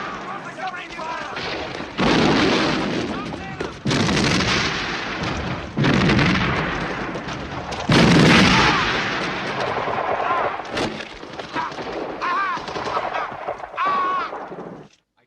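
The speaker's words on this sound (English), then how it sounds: "Covering fire!" Covering gunfire and artillery in a war battle scene at Arnhem, with loud sustained booming blasts and crackling shots in rolling bursts, densely layered and close, with faint shouting voices underneath.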